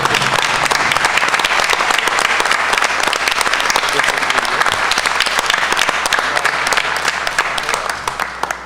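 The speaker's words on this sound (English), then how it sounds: "Please, let's give her a round of applause." Sustained audience applause at a school board of education meeting, a dense crowd clapping steadily and fairly loud before tapering off near the end.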